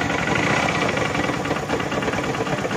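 Motorcycle engine running with a loose aftermarket special bearing, giving a steady, close, loud mechanical rattle and knocking clatter that continues without a break.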